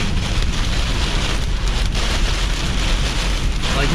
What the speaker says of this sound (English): I'm getting hit by hail.